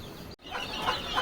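Desi chicks and hens on a farm giving short clucks and faint chirps amid a busy rustling background, close and moderately loud, with a brief dropout near the start and no voices.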